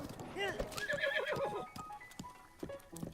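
Epona, a horse in Zelda: Breath of the Wild, gives a close, loud whinny with clip-clopping hooves and other game sounds around it.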